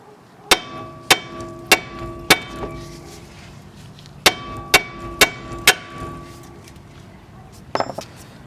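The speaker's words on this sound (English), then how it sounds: "now we're going to tap it with the hammer to free it" Metal hammer blows striking the outer tie rod end on a 2010 Nissan Sentra, ringing sharply in two bursts of four or five evenly spaced taps, followed by a faint metallic clatter, close and loud.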